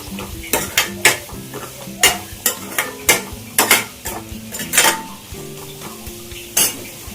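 Almonds deep-fry in hot oil for a chicken gravy, a steady sizzle broken by repeated sharp metallic scrapes and clinks as a spoon stirs the pan, close and loud.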